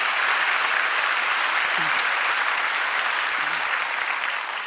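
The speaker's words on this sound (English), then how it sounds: "So it's pretty exciting, and you may applaud Abby Finkenauer." A large audience at a political event claps continuously in dense, steady applause that fades slightly at the end, with no voices over it.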